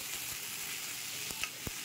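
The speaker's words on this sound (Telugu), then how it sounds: "గుమ్మడికాయ ముక్కలు కట్ చేసి పెట్టుకున్నాం కదా, కట్ చేసుకున్నది ఈ పోపులో వేసేసుకోండి" Pumpkin pieces frying in a ghee tempering give a steady sizzle with soft crackle throughout, plus a few sharp pops and stirring clinks near the end, with no voices.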